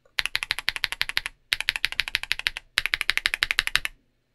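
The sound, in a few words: typing on keyboard with ACO CS Vintage white linear switches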